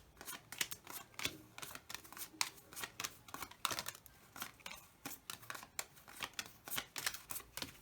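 Gypsy fortune-telling cards being laid out quickly in a cross spread on a table, a busy run of soft papery slaps, slides and flicks at close range with no talking.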